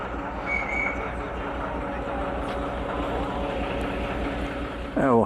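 A train rumbles steadily along the Šargan Eight railway, a constant low mechanical drone with faint rattling and a short screech at the end, while people talk over it.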